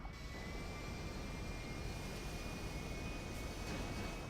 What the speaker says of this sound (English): For how big this plane is, it actually accelerates pretty fast.